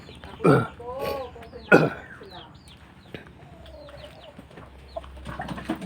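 Chickens cluck and call nearby in short bursts, with a couple of louder squawks early and soft clucking scattered throughout.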